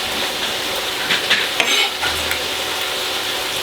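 Garlic and onions fry in a pan for veal Marengo, a steady soft sizzle with a few light stirring scrapes and clinks running throughout, with no talking.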